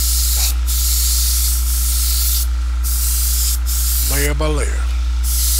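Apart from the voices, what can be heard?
airbrush spraying black paint on model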